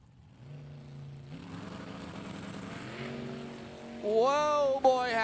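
A nostalgia funny car launches at an NHRA drag strip during a Hot Rod Heritage Series event, its engine building from a low rumble into a loud rising roar near the end, with an announcer talking.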